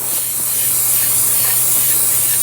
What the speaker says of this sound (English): I put a coating of the spray glue on there